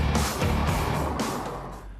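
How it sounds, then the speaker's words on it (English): A Porsche 911 convertible with a turbocharged engine rushes past with a loud, close engine roar and wind noise that fades slightly over two seconds. "This 911 convertible sounds somehow different."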